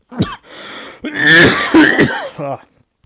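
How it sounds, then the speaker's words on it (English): A person coughs and clears their throat in a harsh, rasping fit, a short cough, then a longer strained bout, close to the microphone. "Might cut out some of this coughing"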